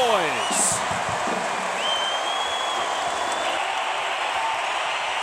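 An Arizona partisan crowd in a Las Vegas basketball arena roars after a dunk at the Pac-12 Tournament, a broad sustained cheer with applause, heard under an announcer talking.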